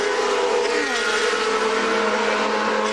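A GP2 Series race car engine screams at high speed on an Italian circuit in 2005, a loud, steady, high-pitched whine that holds close and constant with a slight pitch shift partway through, and no voices.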